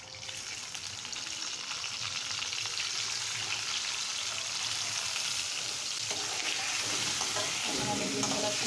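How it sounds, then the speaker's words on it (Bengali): Boiled eggs fry in a pan of oil with turmeric, giving a steady, dense sizzle that holds close and fairly loud throughout, with no voices. "আমি ডিমগুলো সুন্দর করে ফ্রাই করে নেব"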